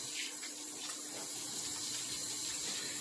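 Water running steadily from a tap while hands are washed with Safeguard soap, a continuous close hiss and splash throughout.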